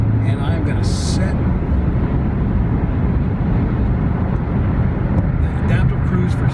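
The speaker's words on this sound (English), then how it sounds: "You can really hear that engine working." A Toyota Prius Prime's petrol engine labouring at about 70 mph on the highway makes a loud, steady drone mixed with road and wind roar inside the cabin, unbroken for the whole stretch.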